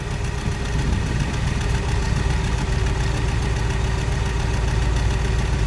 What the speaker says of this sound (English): Let me just listen to that idle.